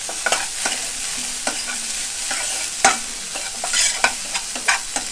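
Mushroom filling for a veg Frankie roll frying in a pan, a close, continuous sizzle with frequent clicking and scraping taps from a utensil stirring throughout.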